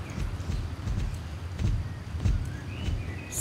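Horse hooves climbing stairs in the video game Star Stable: a few soft, slow, uneven hoof thuds over a steady background ambience.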